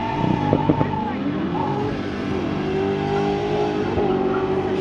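A race car engine at a Gecko Cup event in Kąkolewo drones and revs steadily, its pitch rising slowly as it holds a loud, continuous note, with faint background noise.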